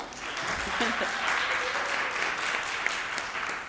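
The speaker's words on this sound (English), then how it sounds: "You can clap." An audience applauds a singer at a live performance, a steady wash of clapping that stays even and fairly close throughout, with no voices over it.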